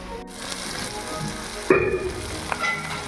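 Oil sizzling and crackling steadily under a pan of vegetable curry, close up, with a sharp clank and a brief stir partway through.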